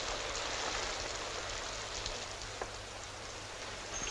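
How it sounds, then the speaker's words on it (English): Steady rain hisses down outside a shelter by a seaside pier, a dense even wash of drops with a low hum beneath and no voices. "if it hadn't come on to rain"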